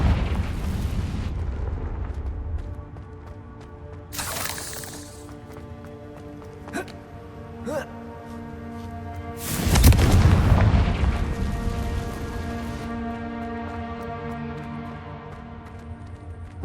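A Confringo blasting spell in the Hogwarts Legacy video game sets off a loud explosion with a deep boom and rumble. Smaller bursts and game ambience come before it, and the blast decays into a long tail.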